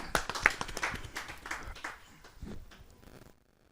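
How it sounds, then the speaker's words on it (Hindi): An audience at a Hindi poetry gathering claps to welcome a poet onto the stage, a dense burst of applause that peaks early, thins out over a few seconds and then stops. "जरा जोरदार ताली के साथ हम उनका स्वागत करें।"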